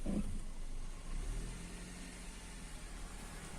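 A car's engine idles and hums low and steady while reversing during a driving lesson, close inside the cabin with no talking.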